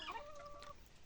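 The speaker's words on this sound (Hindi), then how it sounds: "देखो इस प्रकार से हमारे मुर्गे हैं जो फार्म के अंदर हैं।" Kadaknath chickens on a farm give a soft, distant cluck and a brief drawn-out call, faint against low background noise.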